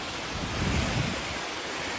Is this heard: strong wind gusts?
yes